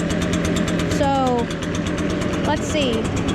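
An Echo backpack leaf blower with a two-stroke engine on a 50-to-1 oil mix, running cold with a steady loud drone close by while someone talks over it.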